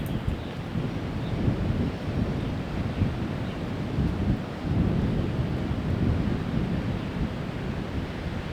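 Strong wind gusts roar across an outdoor disc golf course during an amateur championship round, a dense, rumbling buffeting against the microphone that swells and eases without pause, with no voices.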